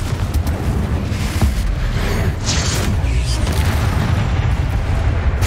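Confringo blasting curse in Hogwarts Legacy, with dense rumbling booms and crackling debris that stay loud and continuous, layered with game effects.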